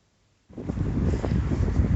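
Wind buffeting a microphone while walking outdoors on a grim, cold, wet day, a dull rumbling gust that starts abruptly after a brief silence and continues steadily to the end.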